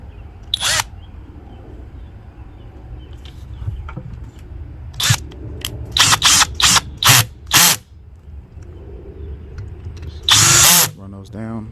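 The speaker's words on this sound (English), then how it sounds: "I'm going to take my drill," A cordless drill drives screws into a 2-stroke carburetor in a run of short, sharp whirring bursts, several in quick succession, with quiet handling noises between them.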